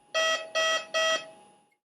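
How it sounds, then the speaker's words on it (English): A Vapotherm high-flow unit sounds its gas supply fault alarm with a gas hose pulled from the wall or Q50 compressor: three even electronic tones, evenly spaced, clear and close in a quiet room. "Another alarm is the gas supply fault alarm."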